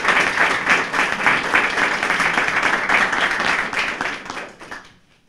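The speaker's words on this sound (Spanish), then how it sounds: "También les pido un fuerte aplauso." Audience applause at a libertarian party seminar, a steady round of many hands clapping at close range that holds for about four seconds and then fades out to silence.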